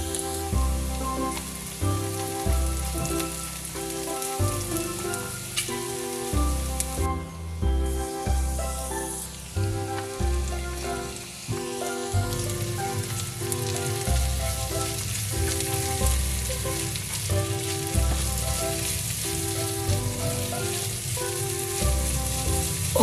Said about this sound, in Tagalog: Now, magigisa na ako ng garlic, ginger, and onion.